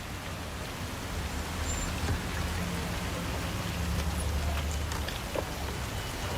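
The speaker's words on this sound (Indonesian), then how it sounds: "Masih hujan nih, gimana?" Rain falls in a steady, dense hiss with scattered drops hitting a surface, loud and constant throughout with no voices.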